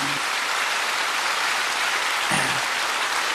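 Church congregation applauding during a French-language sermon, a dense, even hiss of many hands clapping at once, steady and moderately loud, with a brief voice murmur near the middle.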